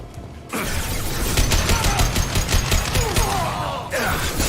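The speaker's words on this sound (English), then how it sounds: "Taking fire!" Sustained rapid gunfire during a Mass Effect firefight, dense overlapping automatic bursts and impacts roaring continuously at close range after a brief quiet start.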